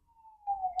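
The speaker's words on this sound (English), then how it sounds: "Sorry, there's a siren." A siren passes outside, a faint thin wailing tone rising in loudness over under a second, heard from a distance indoors.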